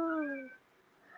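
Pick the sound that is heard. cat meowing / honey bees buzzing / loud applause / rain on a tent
cat meowing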